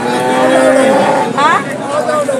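A buffalo moos loudly up close at a weekly cattle market in Husnabad, Telangana, a deep drawn-out call followed by a second shorter lowing, amid market noise.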